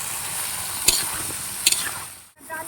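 Pumpkin and beans sizzling and frying in a pan at an outdoor winter picnic, stirred with a large metal spatula; steady hiss of frying with a few sharp scrapes of the spatula against the pan.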